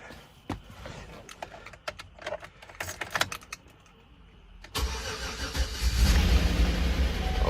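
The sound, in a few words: Gen 4 LS 5.3 V8 engine starting up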